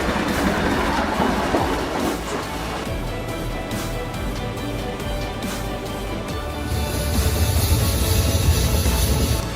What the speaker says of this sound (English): Imagine a train creeping forward on a snow-covered track, its black, rotating disc spinning furiously at the front.